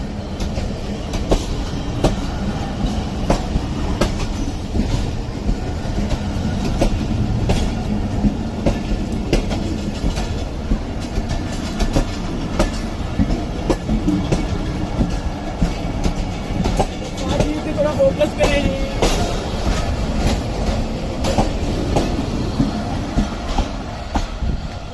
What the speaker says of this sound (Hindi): तो ये अपनी मंजिल की जानिब रवाना हो गई और गोडा रेलवे स्टेशन का प्लेटफार्म छोड़ दिया।